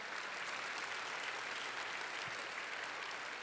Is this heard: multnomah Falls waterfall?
no